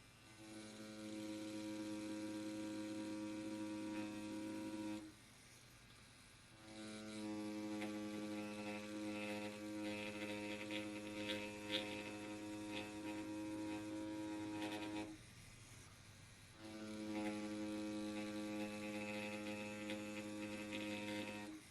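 An XNET Vane rotary tattoo machine fitted with a 5 round liner runs at 8 volts, giving a steady, even mechanical hum that continues alone without talk, with two brief dips where the motor drops away.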